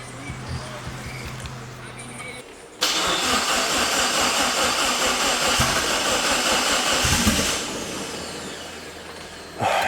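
After a rebuild, a Mitsubishi Evo with an upgraded turbo on E85 cranks and fires. Low starter churning comes first, then a sudden loud burst into a steady rough idle for about five seconds before it settles lower.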